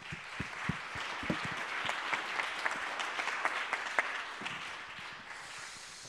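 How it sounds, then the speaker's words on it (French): Steady applause from an audience at an evening conference on mobility and artificial intelligence, a dense wash of clapping with a few louder individual claps standing out, holding even throughout and easing slightly at the end. "Je pense qu'on peut applaudir Paul Mathieu-Zamski"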